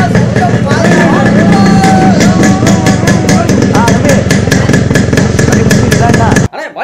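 A motorcycle engine starts and then runs with a loud, rapid, chugging beat, close by. Voices can be heard faintly under the engine noise until it cuts out near the end.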